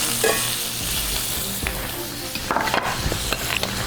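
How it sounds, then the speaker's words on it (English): Steak frying in a hot pan sizzles loudly and continuously up close, with scraping and clinking bursts as the meat is turned over partway through. "Let me just turn that steak, looking so good."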